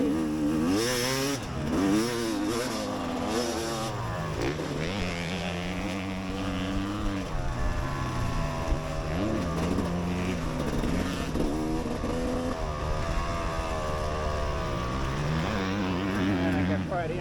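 A motorcycle at riding practice on a training course, its engine revving up and down in repeated sweeping pitches as it accelerates and slows through corners, close and steady throughout.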